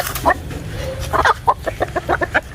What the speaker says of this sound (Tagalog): Ito po ang itsura ng babaeng Black Australorp.